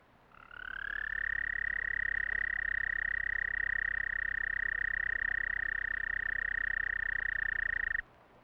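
Wood frogs chorusing in early spring at a flooded river floodplain, a dense, steady, continuous trilling drone that holds loud and unbroken for about seven seconds before stopping abruptly.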